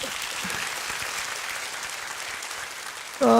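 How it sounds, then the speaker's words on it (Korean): A church congregation at a Sunday service applauds steadily for a few seconds, and a voice starts speaking loudly just as the clapping goes on. "다시 한번 박수 부탁합니다"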